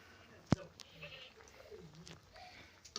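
Goats and sheep on a rural farm give a short, sharp bleat near the start, with faint further calls and background household activity.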